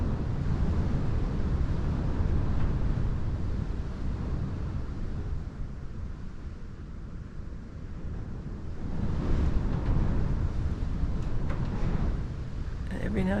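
Strong, gusty wind in an exposed spot roars steadily and loudly, easing briefly and then surging again in a fresh gust. Faint rustling runs underneath.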